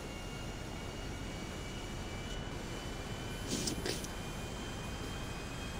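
A stunt plane in GTA V flies with a steady droning engine roar, dense and continuous, swelling briefly partway through.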